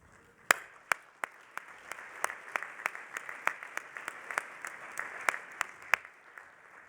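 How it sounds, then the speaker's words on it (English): Conference audience applauding a subcommittee, scattered distinct claps over a soft steady wash of applause in a large room, fairly distant and even throughout. "would you please stand so that we may all applaud your efforts"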